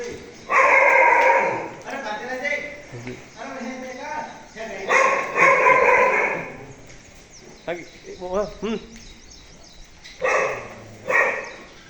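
Dogs bark and yelp in several bursts at a buffalo stable, fairly close, mixed with whimpering and people talking over them.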